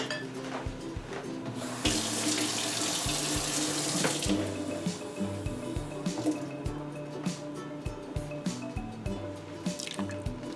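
Water pours steadily into bread dough in a bowl, a continuous splashing, trickling stream that grows louder and fuller midway, with soft drips and squishy liquid sounds close by.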